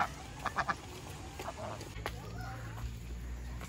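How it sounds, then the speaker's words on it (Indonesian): A goose-like bird gives a few quick honking squawks close by, followed by softer calls, under quiet background noise with a person speaking faintly. "Hai burung."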